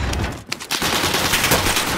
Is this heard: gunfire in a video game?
yes